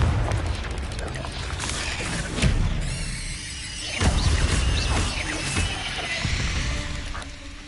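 Confringo blasting spells in the Hogwarts Legacy video game burst in several booming explosions amid crackling, squealing combat effects, loud and dense throughout.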